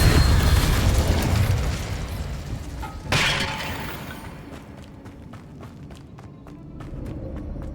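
Incendio fire spell cast in the Hogwarts Legacy video game: a sudden loud whoosh and burst partway through, over dense game noise, followed by a string of faint crackling ticks as it fades.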